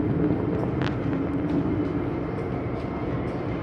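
An MTR train pulls away from a platform in Hong Kong, a steady close rumble and rolling rail noise that holds evenly with no talk.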